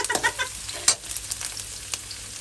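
Garlic and onion fry in a pan for lumpiang sariwa, giving a steady close hiss with a few quick scraping and tapping strokes.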